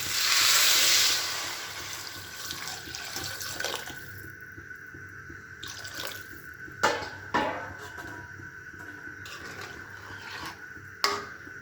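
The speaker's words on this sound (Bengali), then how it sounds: "আমার সবজিটা ভাজি করা হয়ে গেছে জল দিয়ে দেবো" Water poured into a pan of fried mixed vegetables, a loud rushing gush at the start that settles into a steady bubbling simmer with a few sharp clinks of utensils, no voices.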